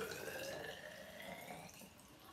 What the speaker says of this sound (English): basically we're just gonna pour directly into the graduated cylinder